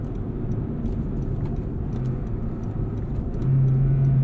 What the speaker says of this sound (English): This 2-liter 4-cylinder is revvy. This is a fun little engine.